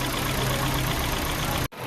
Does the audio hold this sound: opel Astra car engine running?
yes